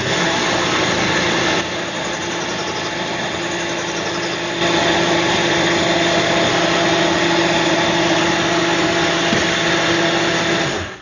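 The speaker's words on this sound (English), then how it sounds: "And then I'm going to use this blender" A loud blender whirs continuously as it mixes a protein shake, its motor pitch rising partway through and holding steady until it cuts off at the end.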